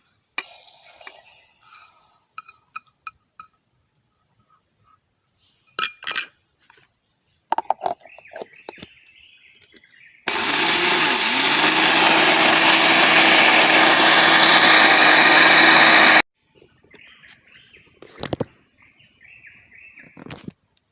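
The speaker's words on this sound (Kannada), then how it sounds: "ನಾನಿಲ್ಲಿ ಇವತ್ತು ಈ ಸಕ್ಕರೆಯನ್ನು ಮಿಕ್ಸಿ ಜಾರಿಗೆ ಹಾಕಿ ಪುಡಿ ಮಾಡಿಕೊಳ್ತಿದ್ದೇನೆ" An electric mixer grinder powdering sugar in a mixie jar roars loudly and steadily for about six seconds, framed before and after by scattered clinks and taps of the jar and lid.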